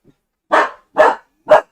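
A dog barks three times at an even pace, close and loud, with silence between each bark.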